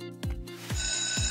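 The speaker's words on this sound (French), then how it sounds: "La sonnerie." A ringing tone sounds in three quick repeated bursts, bright and fairly loud, each burst sharp at the start.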